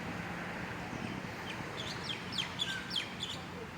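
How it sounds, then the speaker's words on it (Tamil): Several birds chirping and calling in a small park on a quiet Sunday morning, a cluster of bright tweets and short whistles over a steady outdoor hum, moderately close. "பார்த்தீங்கன்னா பறவைகள்லாம் நல்லா கத்துற சவுண்ட்லாம் கேட்குது பக்கத்தில்."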